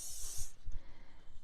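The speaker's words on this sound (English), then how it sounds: "but I'm gonna use just the cooking spray" A short burst of cooking spray hisses into the inside of an omelette ring, a faint half-second spritz followed by quiet handling sounds.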